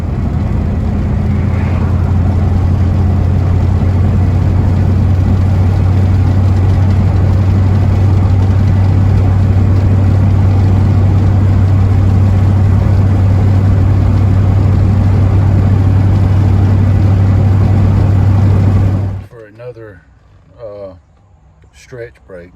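Steady engine drone of a 55-year-old wagon cruising in fifth gear, a loud, constant low hum with road and wind noise that cuts off abruptly near the end.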